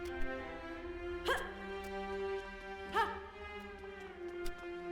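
A dog in the video game Pathway gives two short, moderately loud barks a couple of seconds apart, with faint yips and game ambience between them.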